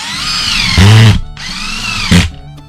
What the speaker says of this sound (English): I'm just going to run some screws right up through